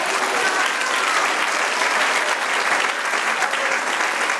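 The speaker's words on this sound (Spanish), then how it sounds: "Dale un aplauso al Señor" A church congregation claps for God in steady, dense applause at a Spanish-language service, loud and continuous throughout, with no voices rising above it.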